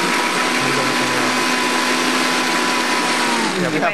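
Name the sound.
blender pureeing food to a smooth consistency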